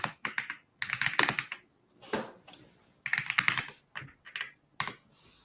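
Fingers clatter over a computer keyboard during command-line work, in close quick bursts of keystrokes separated by short pauses, with no talking.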